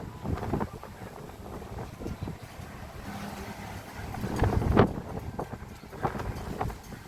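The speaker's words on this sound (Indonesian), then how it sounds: "anginnya dingin, dingin, masih dingin anginnya" Cold wind buffets the microphone outdoors in Japan, producing uneven low rumbling gusts with scattered bumps and handling noise, one stronger gust near the middle.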